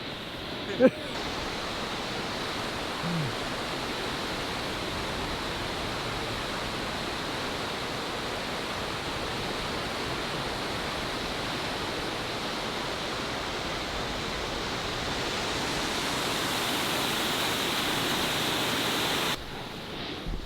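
A steady, loud waterfall roars without a break at an outdoor swimming spot, its broad rushing wash constant from start to finish with no clear voices above it.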